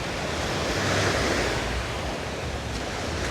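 Waves washing onto a beach in Da Nang, a continuous soft roar of surf with wind buffeting the microphone, steady and moderately distant with no voices.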